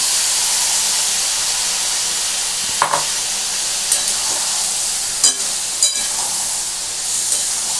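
Prawns sizzle in a hot pan with an intense, continuous hissing fry heard up close, punctuated by several short knocks and scrapes of a spoon against the pan.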